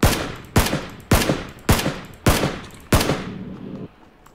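Six loud, evenly spaced gunshots ring out in PUBG, about half a second apart. Each has a sharp crack followed by a decaying echo.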